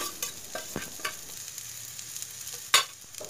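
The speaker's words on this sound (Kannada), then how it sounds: "ಒಂಜಿ ಅರ್ಧ ನೀರುಳ್ಳಿ ಅಂಚನೆ ಒಂತೆ ಬೇಸುಪ್ಪುನ್ ಪಾಡ್ದು ಇಂಚ ಕಂದು ಬಣ್ಣ ಆಪುನ ಮುಟ ಫ್ರೈ ಮಲ್ತನೋಡು" Half an onion frying with salt in a pan for Mangalorean kadle balyar sukka gives a soft, steady sizzle with a few light stirring scrapes and one sharp clatter near the end.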